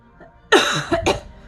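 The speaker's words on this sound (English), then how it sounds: "now my throat is starting to hurt and I'm starting to cough a lot" Two or three harsh coughs close by, a sharp burst followed by a couple of shorter rough coughs, with no talk around them.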